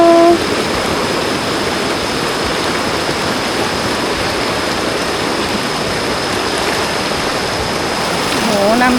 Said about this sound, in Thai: โหน้ำแยงเยอะ